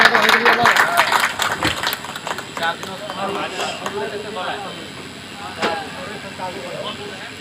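Applause honours leaders at an outdoor political outreach gathering in a Bihar village, loud clapping at the start that fades over the clip while someone talks over it through a sound system.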